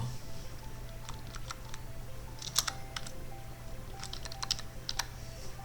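Soft, quick typing on a computer keyboard in a quiet room while editing in Premiere Pro, with irregular bursts of light key clicks and no talking.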